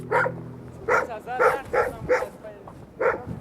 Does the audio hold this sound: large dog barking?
yes